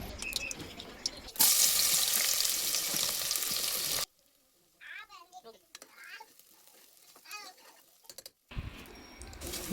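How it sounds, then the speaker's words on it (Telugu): Onions fry in a pot for chicken biryani, a loud crackling sizzle broken by abrupt cuts, with a quiet stretch of faint voices and clinks in the middle before the sizzle returns. "ముందుగా స్టవ్ ఆన్ చేసుకొని గిన్నె పెట్టుకొని ఆనియన్స్ వేయించుకుందాం"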